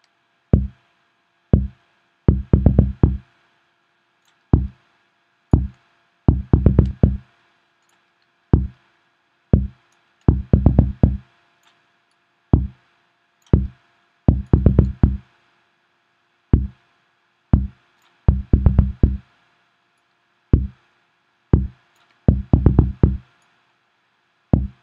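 Custom trap 808 kick and bass made in Logic Pro X, playing as punchy, booming low thumps in a repeating beat pattern with quick rolled hits, loud and dry with silence between.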